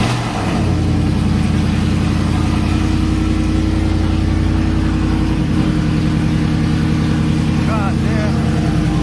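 A 2018 Ford F-150 5.0 V8 with headers, straight piped with no muffler, idles loud and close with a deep, choppy exhaust burble and a brief rev near the start, and a person speaks briefly over it.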